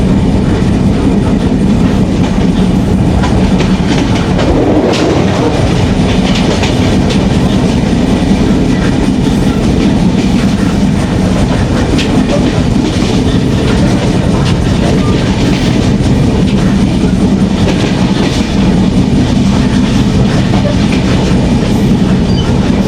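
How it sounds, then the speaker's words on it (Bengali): Benapole Express train running on the rails at night and easing its speed, a loud continuous rumble with rhythmic clickety-clack of the wheels throughout. "ট্রেনের স্পিড একটু স্লো হয়ে গেছে"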